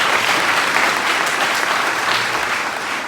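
Steady applause from a church congregation at a Baptist harvest festival, dense clapping sustained throughout at even loudness, nearby with no distinct voices.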